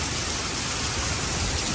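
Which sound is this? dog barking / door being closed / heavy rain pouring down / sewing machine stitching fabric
heavy rain pouring down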